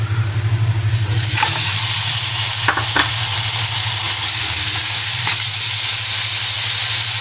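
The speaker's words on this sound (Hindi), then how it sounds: "इसको भी आपने ज़रा भून लेना है थोड़ा सा।" Half a kilo of beef mince frying with spice masala in a pan for shami kabab, a steady close sizzle with a few scraping stir strokes, alone without talk.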